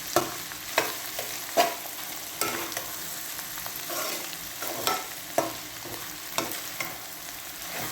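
Bitter gourd stir-frying in a pan, a continuous close sizzle broken by regular sharp clacks and scrapes as the pieces are tossed and stirred.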